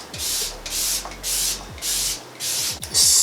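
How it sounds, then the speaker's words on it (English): A cosmetic spray bottle hisses out five or six fine-mist sprays in a steady rhythm, each a short loud burst with quiet gaps between. "let's go ahead and spray this"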